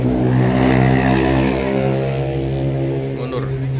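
A Sinar Jaya Suites Class bus idles and rumbles close by while it maneuvers to park at a ticket office, with a low steady engine drone throughout.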